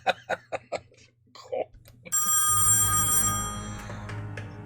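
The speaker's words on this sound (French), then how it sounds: "Ça, c'est un téléphone, by the way." An old telephone bell rings loud and close in a long trill after a few short spoken exclamations, then sustains and slowly fades.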